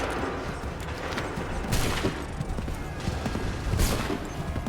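Musket gunfire volleys in Assassin's Creed 3 Remastered on Xbox One, sharp broadband cracks around two and four seconds over a dense battlefield din of rumbling and clatter, with shouting voices mixed in.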